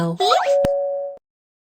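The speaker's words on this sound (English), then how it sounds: "Help Mew Mew ring the doorbell." A cartoon doorbell rings with a bright bouncy chime, a rising springy tone followed by a single sustained ding that fades out after about a second, loud and clean.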